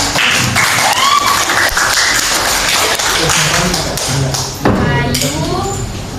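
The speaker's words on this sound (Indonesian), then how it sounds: "Tepuk tangan dulu anak" Children in a classroom clap their hands: loud, busy tapping and slapping with uneven rhythm, mixed with children's voices and an adult talking throughout.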